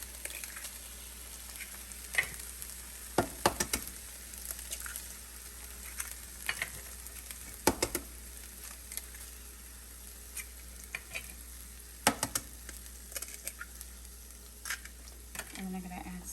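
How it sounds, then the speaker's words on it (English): Eggs and vegetables frying in a pan, a steady low sizzle with scattered sharp clicks and scrapes of stirring throughout, close and moderately quiet. "now we add the eggs"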